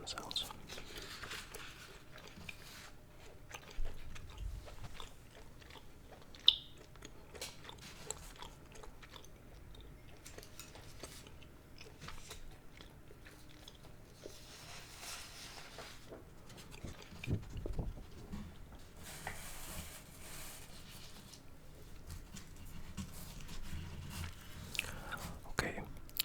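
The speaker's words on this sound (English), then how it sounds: "I'm chewing gum also. So I hope you enjoy those gum sounds" Gum chewed close to the microphone, with soft wet smacks and clicks spread across a long, quiet stretch. Faint whispered talk runs beneath the chewing.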